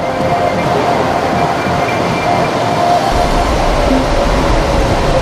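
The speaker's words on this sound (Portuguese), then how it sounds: "Nós vamos esperar passar agora um trem." A São Paulo metro train arriving at a station: a loud, steady rumble of wheels and motor fills the whole stretch, with a deeper low-end surge joining partway through, and no voices.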